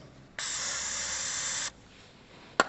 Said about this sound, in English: Spray some release spray through.